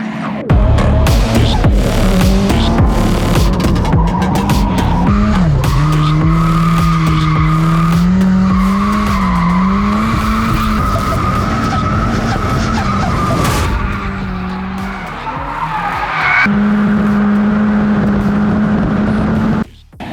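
A turbocharged Mazda MX5 of about 250 brake horsepower drifting on a race track, its engine droning loud and close with pitch sweeping up and down under continuous tyre screech, then a sustained higher whine before a sudden cut.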